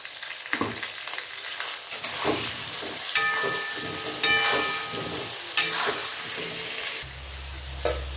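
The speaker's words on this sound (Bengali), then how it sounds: "আলুগুলো ভালো করে গোল্ডেন করে ভেজে নেব।" Potato pieces fry in hot oil with a steady bubbling sizzle, broken by occasional stirring scrapes and clinks of a spatula in the pan, heard close up with no talking.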